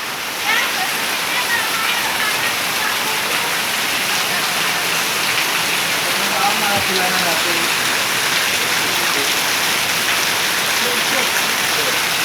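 Heavy rain pours steadily over Bulurejo, Kedungombo, Nganjuk, making a dense, even hiss of drops hitting surfaces, loud and unbroken throughout.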